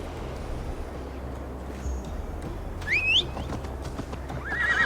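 A horse in Assassin's Creed Valhalla with clip-clopping hooves under a steady low rumble, a sharp whinny partway through and another neigh near the end, moderately close.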